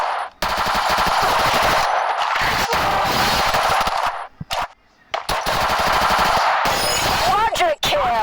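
Rapid automatic gunfire rattles loudly in the Free Fire mobile shooter game, in long sustained bursts broken by short pauses, with a few brief game effects near the end.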